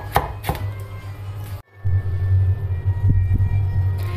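Sharp knife blows chop pide filling ingredients on a board, a few hard cuts up front, then a short gap before more chopping over a steady low hum.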